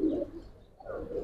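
Giribaz pigeons coo softly nearby, two low murmuring phrases separated by a short dip, with no voices.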